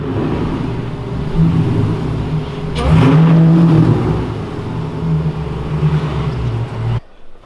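A 6-speed swapped Hellcat Charger engine with a flame tune revs loudly and steadily, surging into a sharp, louder burst midway as the exhaust shoots flames, then cuts off abruptly near the end.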